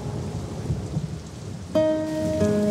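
Heavy monsoon rain pours steadily in Dharavi, Mumbai, a dense wash of noise, with a sustained tonal hum joining partway through.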